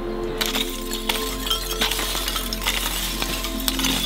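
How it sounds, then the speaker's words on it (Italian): Hot charcoal crackles with sharp, glassy ticks and clinks, scattered irregularly over a steady low hum, close and fairly loud with no voices. "si sente proprio il canto del carbone che, essendo caldo, fa questo rumore"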